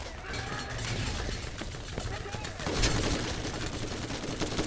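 Gunfire and an exploding grenade in the video game Borderlands, dense bursts of shots running throughout with a louder blast near the middle, all under continuous game noise.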